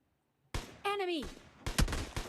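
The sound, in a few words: SKS rifle gunfire in a video game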